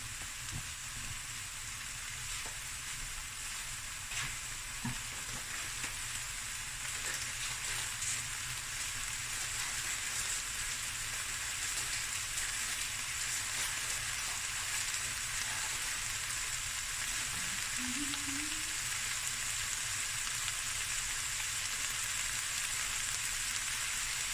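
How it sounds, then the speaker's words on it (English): Seafood and rice stir frying in a pan, giving a steady, close sizzle that holds evenly throughout with a faint hiss and no talking. "while this is stir frying, let me just bring it closer"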